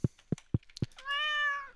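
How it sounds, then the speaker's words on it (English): A cat gives a single clear, drawn-out meow, close and moderately loud, after a few soft thumps or taps. "Meow."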